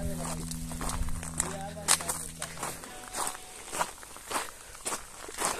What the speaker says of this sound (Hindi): अब हम चल रहे पैदल